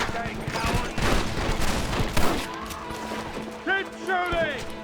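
A gunfight in Red Dead Redemption: a rapid volley of gunshots crackles under shouted speech and fades into continuing talk, fairly close and busy.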